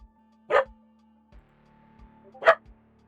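Two sharp dog barks, about two seconds apart, sounding inside a horror game in development, with a low steady hum underneath and faint thuds between them.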